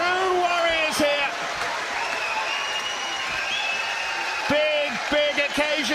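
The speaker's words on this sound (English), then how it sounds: "the crowd rises to 2 warriors here" A boxing arena crowd roars and applauds at the end of the Tyson Fury vs Dereck Chisora fight, with loud sustained cheering and whistles and a commentator talking over it.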